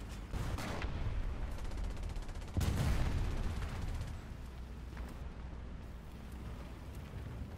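Tank cannon fire in War Thunder with a Jumbo tank, a few heavy booming shots with rumbling decay at moderate distance, the loudest landing midway, over a low engine drone.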